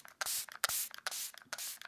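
A bottle of makeup setting spray is pumped onto a face, giving five quick, close hissing mists in a steady rhythm, each lasting a fraction of a second.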